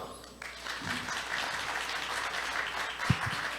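An audience at a blockchain symposium in Korea applauds after a welcome address, a dense, sustained clapping that holds steady, with a single sharp thump near the end.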